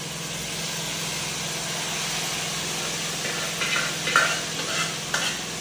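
Already cooked soft beans being stirred into a pot frying with groundnut oil, a steady sizzle over a low hum, with a few scraping stir strokes toward the end.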